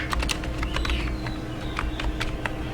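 Rapid clacking of computer keys, a close, steady burst of keystrokes with uneven rhythm over a low background hum, no voices.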